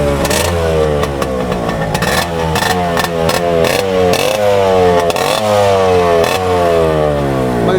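A Yamaha RX100 two-stroke motorcycle revs hard through its aftermarket silencer, with repeated rising and falling throttle blips that come close and loud with a crackling, buzzy exhaust note and no talking.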